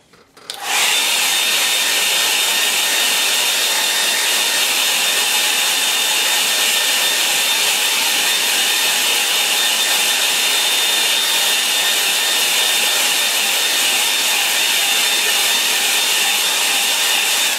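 A hair dryer blows steadily on a wet watercolour autumn lake landscape, a loud continuous whir with a high whine that starts abruptly and runs unbroken to the end, with no talking.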